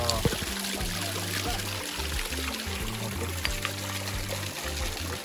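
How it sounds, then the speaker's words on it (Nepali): Water pours steadily from a spout near Rupa Lake in Lekhnath, Pokhara, a constant splashing wash heard close up, with someone talking over it for the whole stretch. "यता चाहिँ यस्तो यहाँ रुखबाट चाहिँ फेरि पानी आएको छ।"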